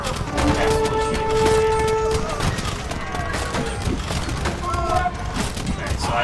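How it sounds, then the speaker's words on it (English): Castle arrows and shots strike attacking units in Age of Empires on the Arena map, a steady patter of rapid impacts running under a voice talking throughout, with faint tonal game chimes mixed in. "The castle is shooting."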